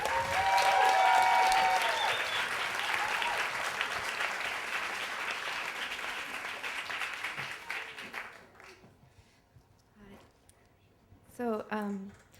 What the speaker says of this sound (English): How about turn that into a big round of applause for Alyssa.